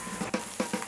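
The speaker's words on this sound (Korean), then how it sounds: "지글지글 익어가는 고소한 장어 냄새." Eel sizzles as it is pre-grilled over coal briquettes at a traditional Korean restaurant, a soft, steady crackle with a few quick pops, faint and close.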